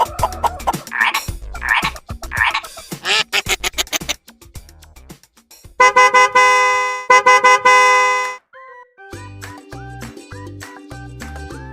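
Cartoon-style frog croaks in a read-aloud springtime story for toddlers, a quick series of close, loud croaking calls at the start, followed by bright musical honks and tones.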